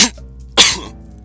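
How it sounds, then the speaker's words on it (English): Two harsh close coughs after swallowing smoky noodles, a short one at the start and a stronger one midway, with a wet rattling tail. "I accidentally bit too much and got the smoke in my throat, and I just coughed up noodles all over the place."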